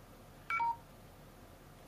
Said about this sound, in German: Jetzt geht mein Handy ab.